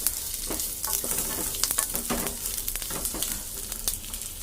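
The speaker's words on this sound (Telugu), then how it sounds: "ఇప్పుడు ఇది ఫ్రై చేస్తాం ఇవి మధ్య వరకు ఫ్రై చేసుకోవాలి" Vegetables such as cabbage and beans fry in a pan for egg fried rice, giving a steady close sizzle broken by the scrape and clatter of a spatula stirring through the pieces.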